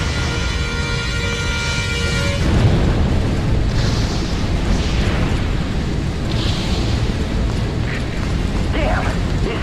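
Explosions in a firefighting video game aboard a ship at anchor make loud, dense rumbling blasts and bursts that roll on continuously throughout.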